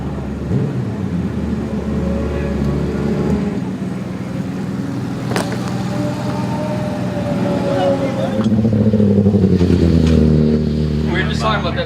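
Racing motorbikes rev hard at the start of a race, a loud, continuous engine roar with pitch sweeping up and down as throttles open and several machines pull away together.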